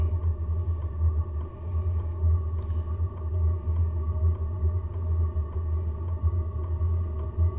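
A WIPPRO diesel heater runs with a steady, low rumbling drone and a faint hum layered over it, even and continuous throughout, with no voices.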